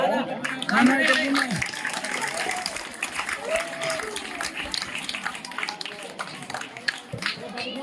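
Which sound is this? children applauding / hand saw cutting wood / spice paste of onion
children applauding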